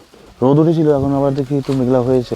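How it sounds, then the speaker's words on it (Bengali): Soft pigeon or dove cooing in a hill village in North Bengal, repeated calls close by, heard under a person talking about the weather. "পাখির ডাক শুনতে পাচ্ছি।"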